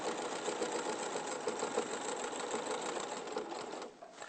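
A domestic sewing machine runs continuously at a steady, fast stitching rhythm, close and fairly quiet, with a brief pause near the end and no talk over it.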